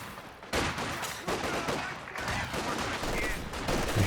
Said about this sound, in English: A heavy mortar out for Lee.